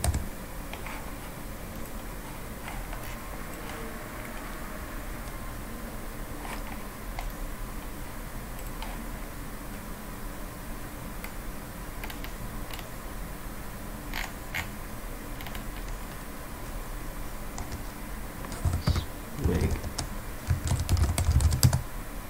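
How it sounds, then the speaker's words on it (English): Typing a command on a computer keyboard while installing SWIG on Windows: a steady run of light, close key clicks over a faint background hum, growing a little louder and busier near the end, with no one speaking. "so you type this command to check that it's properly installed"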